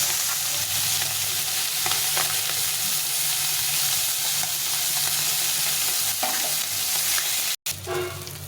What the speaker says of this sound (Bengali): খুব সহজে ট্যাংরা মাছ ভাজা যায় এভাবে।